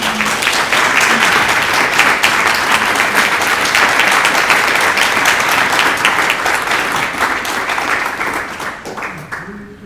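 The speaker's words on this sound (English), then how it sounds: "give them a round of applause" Loud, dense applause from a lecture audience at a university inaugural lecture, greeting the speaker's family members, sustained and close for nearly ten seconds before tapering off at the end.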